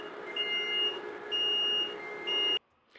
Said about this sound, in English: So you're going to hear that alarm throughout this.